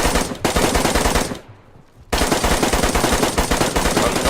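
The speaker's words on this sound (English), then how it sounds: "This is straight up firing ghost bullets at people." Rapid automatic gunfire in the video game DayZ, loud, close bursts of sharp shots with a brief quiet gap in the middle before the firing resumes.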